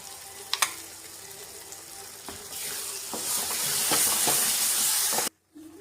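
Ground spice paste frying with onions and tomatoes for a fenugreek vegetable dish, a bright sizzle that swells and hisses louder after a few early utensil clinks and scrapes, then cuts off abruptly near the end.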